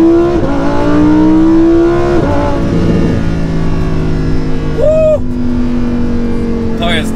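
A naturally aspirated V10 in a Lamborghini Huracan EVO revs and accelerates loudly, its tone climbing through gear changes with a sharp high-pitched rise near the end, while someone talks over it.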